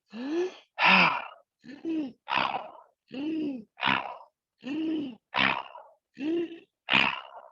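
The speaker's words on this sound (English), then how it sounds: "Inhale, exhale to the mouth, begin." During a breathwork class, a person breathes forcefully through the mouth in a steady rhythm, about ten alternating sharp inhales and exhales, loud and close with short pauses between.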